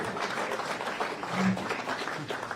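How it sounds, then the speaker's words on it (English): Faint, steady applause from a crowd at a news conference in Palm Bay, heard from a distance as a soft continuous patter. "We get some applause for that"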